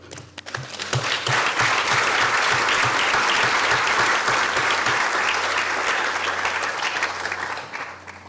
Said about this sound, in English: our applause for her